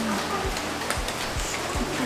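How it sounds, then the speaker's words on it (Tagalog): Steady rain patters on a surface throughout, with a few dull low thuds scattered through the wash of noise. "Ulan na."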